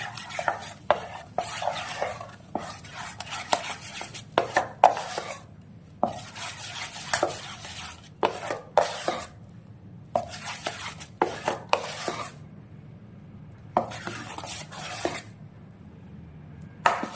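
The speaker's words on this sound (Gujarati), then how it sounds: "હવે આપણે હલાવી લઈશું।" Jowar idli batter mixed with lemon juice is stirred in a bowl by hand, giving repeated scraping, sloshing strokes with short pauses between bursts, close and fairly loud, without any talking.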